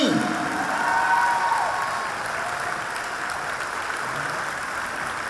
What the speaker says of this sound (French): On peut les applaudir encore un petit peu, les Chiquimini.